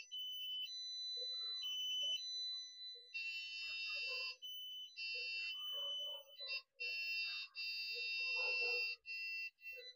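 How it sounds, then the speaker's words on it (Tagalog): A 3D magnetometer ground scanner in sound mode beeping as it detects metal: high electronic tones in short and long bursts that shift in pitch, fairly faint, with soft handling knocks beneath. "pag may tunog, ibig sabihin, yan yung metal na yun yung kanya na-detect"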